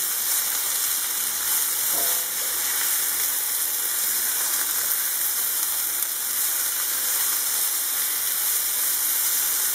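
Apple butter pork chops fry in a pan, a dense, steady sizzle and hiss filling the whole stretch at close range, with a faint scrape of stirring near the start.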